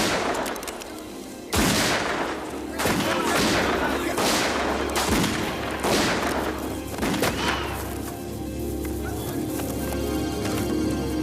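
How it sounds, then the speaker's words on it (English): Gunfire erupts in a burst of several loud, sharp shots in quick succession, followed by more scattered cracks, with talk faintly underneath. "Shots."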